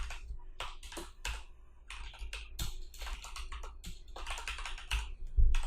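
Steady typing on a computer keyboard while writing web code, with irregular bursts of sharp key clicks and taps of varying loudness, close and alone with no talk.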